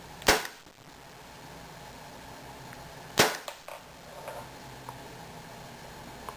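Two sharp, loud shots from a Walther PPK airsoft gas pistol fired through a chronograph, spaced about three seconds apart, each a crisp pop followed by faint clicks and mechanical ticks.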